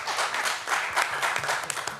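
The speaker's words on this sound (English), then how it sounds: "It's okay to clap staff because it's true" Staff clapping at an Environmental Protection Commission meeting, a short patter of applause from a modest group in a meeting room, uneven and slightly thinning over two seconds.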